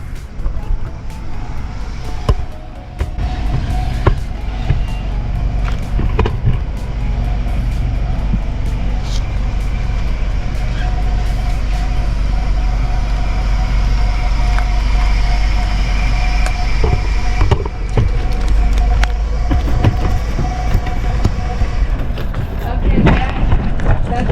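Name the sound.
2008 Ford Focus car on a test drive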